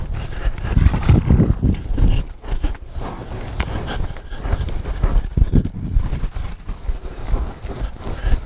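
Hooves of a working cutting horse clip-clop in an uneven, fast rhythm of thuds on dirt while separating cattle, close and fairly loud with scuffing between strikes.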